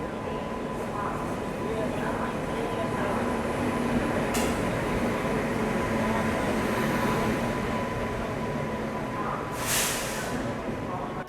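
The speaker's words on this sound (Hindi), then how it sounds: "और यहाँ पे अपनी ट्रेन का भी अराइवल हो चुका है। और ये है ट्रेन नंबर 12424 नई दिल्ली डिब्रूगढ़ राजधानी एक्सप्रेस।" Train 12424, the New Delhi–Dibrugarh Rajdhani Express, arrives at a station on a diverted route, giving a continuous loud rumble and rolling rail noise with a couple of brief hissing bursts, while a person talks over it.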